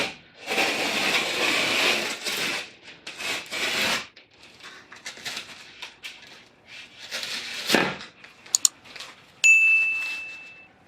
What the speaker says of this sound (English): I then used the utility knife to cut through the backside.